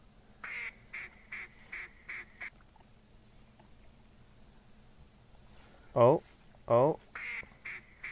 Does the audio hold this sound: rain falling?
no